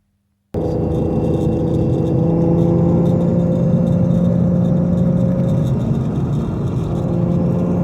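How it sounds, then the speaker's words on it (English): Twin-turbo Porsche Boxster fitted with McLaren parts on a test drive: a steady, loud engine drone and road rumble from inside the car, starting abruptly after a brief silence and holding without talk. "So I'm going to take it for a test drive now."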